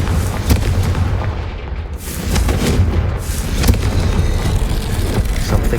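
A Confringo fire spell blast in Hogwarts Legacy erupts as a loud, heavy boom with rolling rumble and crackling bursts, sustained for several seconds.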